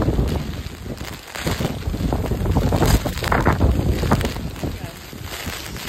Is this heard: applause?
no